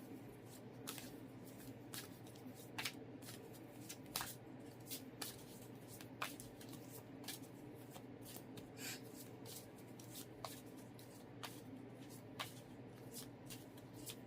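Tarot cards are handled and laid out on a table, producing soft, close papery flicks, slaps and shuffling rustles at an irregular pace throughout, quiet and without talk.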